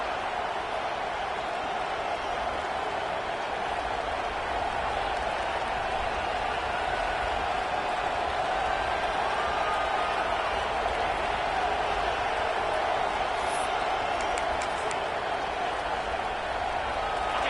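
A football stadium crowd roars steadily throughout a college game kickoff return, a dense sustained wall of cheering with no break in level.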